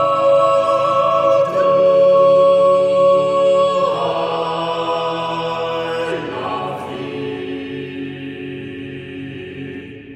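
A choir sustains a badly spaced chord, with a high alto part far above the second sopranos and very low tenors; full, loud sustained harmony that shifts chords a few times, with no talking.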